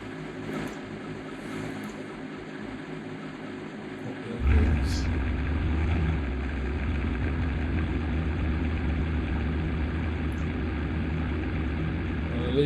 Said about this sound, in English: So essentially we'll get the engine going.